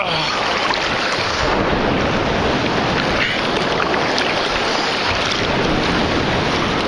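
Strong waves break on Oludeniz beach in Turkey with a continuous loud roar of surf and wind rumble, steady throughout with no voices.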